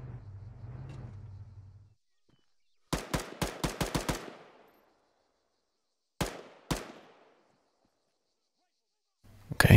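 Gunfire in the military shooter game ArmA 3: a rapid burst of about seven sharp shots, a pause, then two more single shots, with a low engine rumble before and after.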